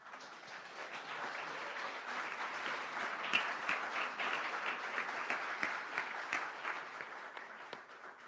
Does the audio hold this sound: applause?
yes